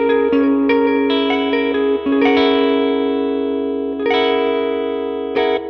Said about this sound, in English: Really beautiful reverb in this amp.